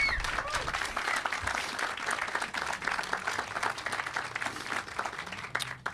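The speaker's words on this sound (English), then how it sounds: "Can we give a round of applause for those supporters?" Crowd applause for donors and supporters at the Franklin Cummings Institute of Technology groundbreaking, many hands clapping in a lively, irregular patter, fairly close and steady throughout, with faint voices mixed in.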